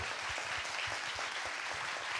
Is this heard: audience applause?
yes